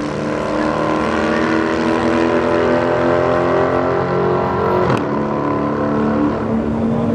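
Dodge and Toyota Supra drag racing at St. Thomas Raceway Park on a street-legal Friday night, a loud, steady engine roar holding throughout with a sharp transient near the end.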